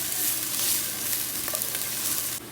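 Onions frying in hot oil for chilaquiles give a steady, dense sizzle close by, continuous throughout with a slight drop near the end, no voices.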